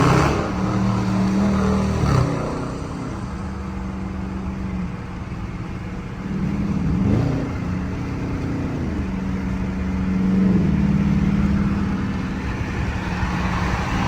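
A 2019 Dodge Charger R/T V8 rumbles loudly from inside the car while driving, with throttle swells and revs rising and falling over a steady low engine drone.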